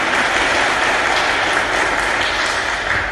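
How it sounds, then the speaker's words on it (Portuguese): Sustained applause from a church congregation after a Gospel reading, steady dense clapping filling the space throughout without pause. "Pode aplaudir."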